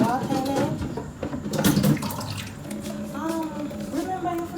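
Water pours into a pot sitting on a hot plate while shrimp pasta is being cooked, a brief splashing under people talking close by.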